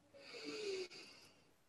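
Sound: deep breath exhaled forcefully through the mouth

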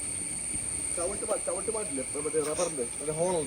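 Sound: cricket chirping

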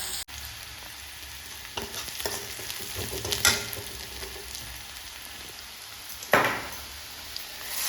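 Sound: stirring spice paste frying in a pan for fish curry

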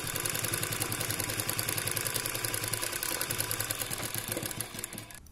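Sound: sewing machine stitching a pyjama seam

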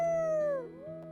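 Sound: werewolf howling at the howling spot in The Sims 4 video game

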